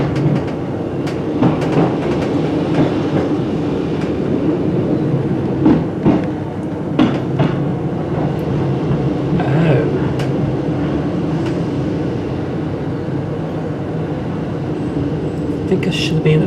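A passenger train on the Harrogate Line rumbles steadily from inside the carriage, a continuous low rolling noise with occasional clunks, while people talk over it.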